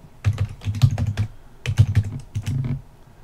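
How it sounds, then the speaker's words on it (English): Quick bursts of typing on a computer keyboard entering a short command, two clusters of crisp, close keystrokes separated by a brief pause. "So we're going to type in cd space marquees."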